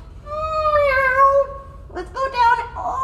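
A person imitates a cat with a drawn-out, wavering vocal meow, followed by a few shorter voiced sounds, close and clear.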